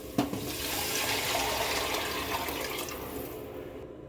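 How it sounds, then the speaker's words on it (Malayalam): Water pours steadily into a pot of rice for a beef rice dish, a close rushing, gurgling flow lasting a few seconds before stopping abruptly, with no talk. "2 ഗ്ലാസ് അരിയാണെങ്കിൽ 4 ഗ്ലാസ് വെള്ളം നമുക്ക് ചേർത്ത് കൊടുക്കാം."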